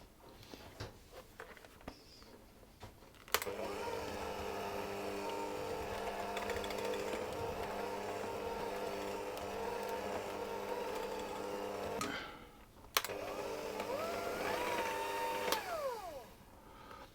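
An electric mixer runs on low speed through shortbread dough for apricot jam shortbread, giving a steady, close motor whine that cuts in after a few seconds, stops briefly near the end, then resumes.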